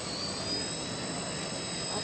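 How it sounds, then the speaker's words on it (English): Military jet aircraft taxiing on the tarmac at a college Founders Day air show, a steady loud turbine whine and roar continuing throughout. "you can see the planes moving on the tarmac. This part of the show is called taxiing."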